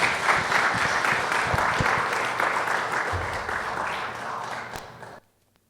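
A church congregation gives loud, sustained applause that slowly fades and then stops sharply, with a faint voice beneath.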